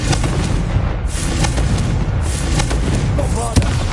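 Bombarda spell blasts in the video game Hogwarts Legacy: loud, booming explosive bursts that come one after another over a dense, continuous roar of combat noise, with a voice mixed in.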